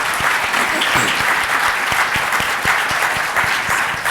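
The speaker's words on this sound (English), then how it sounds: "Please join me in giving a round of applause for our terrific panelists today" A room full of people claps for a panel of speakers at a workplace event, a dense, steady round of applause with sharp individual claps audible throughout, loud and sustained for the whole stretch.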